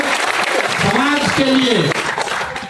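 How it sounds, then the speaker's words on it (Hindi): An audience at a political gathering claps to welcome Samim, a steady burst of applause that runs the full length, with a voice speaking over the clapping. "समीम भाई के नाम पर एक बार जोरदार ताली बजाकर आप लोग स्वागत कीजिए"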